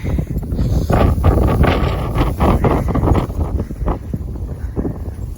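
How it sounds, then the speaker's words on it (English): Gusty wind buffets the microphone outdoors in steady, loud rumbling waves throughout, with no other clear sound standing out. "wind again."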